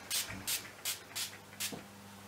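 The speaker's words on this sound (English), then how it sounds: "for my setting spray, I'm going to use Urban Decay's All Nighter" Urban Decay All Nighter setting spray misted in five quick hissing pumps at an even rhythm, close and crisp, with a soft click between some bursts.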